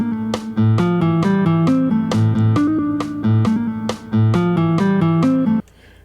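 Electric guitar plays the main riff of a song, a loud, clean-sounding run of rhythmic picked notes repeating for about five and a half seconds, then stopping.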